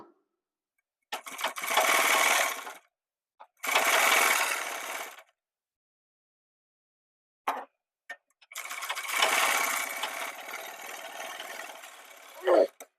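A sewing machine stitches the shoulder seam of a men's shirt in several loud, close, continuous bursts of whirring, with silent pauses and a few short taps between runs.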